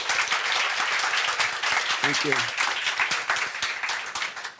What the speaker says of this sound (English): give us a warm round of applause for our panelists